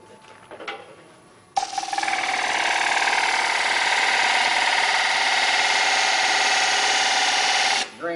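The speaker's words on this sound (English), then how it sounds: "Green wood really plugs sandpaper quick, but it's better than the alternative." Sandpaper pressed against a spinning green wood stool leg on a lathe, a steady, loud, continuous whir-hiss holding for about six seconds after a short quieter start, then cutting off.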